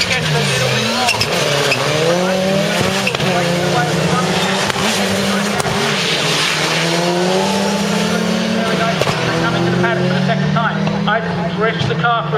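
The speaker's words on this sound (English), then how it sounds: "Drifts the car through there beautifully." A Saab rallycross car drifts through a corner at Lydden Hill during a Euro Rallycross heat, its engine droning steadily with tyre scrub throughout, while a commentator talks over the noise.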